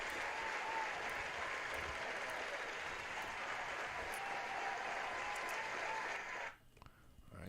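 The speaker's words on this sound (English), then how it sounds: "Let's give it a round of applause." A crowd claps in steady, dense applause, loud and sustained for several seconds before thinning out abruptly near the end.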